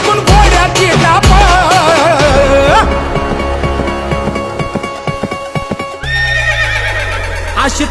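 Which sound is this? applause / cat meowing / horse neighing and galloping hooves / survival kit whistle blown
horse neighing and galloping hooves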